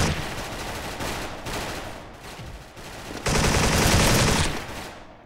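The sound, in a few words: gunfire in Special Force video game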